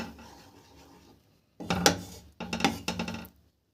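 A spoon scraping and rubbing against a pot while sago payesh is stirred, in short close bursts of rasping with brief pauses between strokes.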